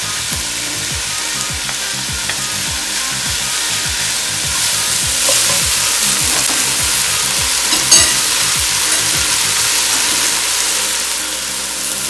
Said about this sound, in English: So now I am going to saute these until they get a bit translucent.